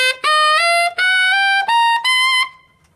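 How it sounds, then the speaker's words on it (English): Tenor saxophone running a blues scale in A upward into the altissimo range, four loud sustained notes separated by short breaths, climbing in pitch and ending on a high altissimo D before a quiet tail; no voices. "I'll play that scale for you using those fingerings right now"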